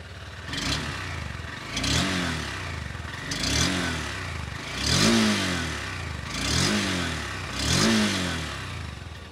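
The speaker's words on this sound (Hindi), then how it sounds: "सबसे पहले इस बाइक की एग्जॉस्ट नोट सुन लीजिए।" A 2021 Honda CB200X motorcycle revved repeatedly, about six sharp throttle blips rising in pitch then falling back to a throbbing idle, loud and close with no talk.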